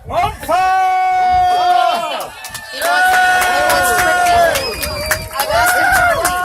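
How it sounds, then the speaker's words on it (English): A crowd at a Renaissance fair joust roars and shouts for a knight, Le Chevalier Jean-Pierre. Loud, sustained massed voices rise and fall in waves across the whole stretch. "My good friends, I would have you cheer in English for Le Chevalier Jean-Pierre"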